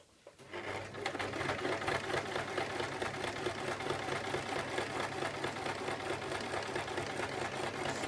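A sewing machine stitches fabric for a circle skirt, starting after a moment of quiet and then running in a steady, fast, even chatter of needle strokes close by.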